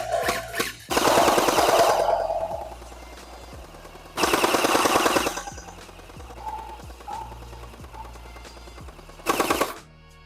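Shots from an M4-S gel blaster in desert tan, fired on semi mode, come in three short clusters of rapid mechanical cracks with pauses between them. The shots are close and loud, with faint clicks and hum in the gaps.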